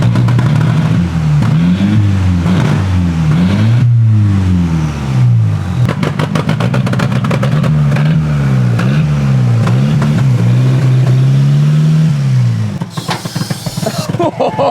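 A cheap budget daily-driver car's engine runs loud and close while being driven, pitch rising and falling through repeated revs and gear changes, with brief voices underneath.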